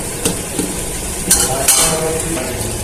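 Spiced eggplant fries in a pan for begun bahari while a utensil stirs it, soft sizzling underneath a few sharp scraping clacks of the spoon against the pan, close and fairly loud.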